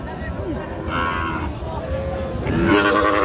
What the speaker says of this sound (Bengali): এখানে একটা সুন্দর একটা কোয়ালিটির পাকড়া দেখছিলাম আমরা